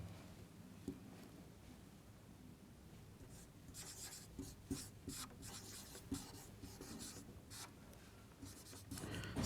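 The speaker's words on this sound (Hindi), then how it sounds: "मैं एक वाक्य लिखता हूं।" A sentence handwritten during a Hindi lesson for fifth-grade students, with soft, close pen or chalk strokes that scratch and rub in short bursts, growing busier partway through over a quiet room.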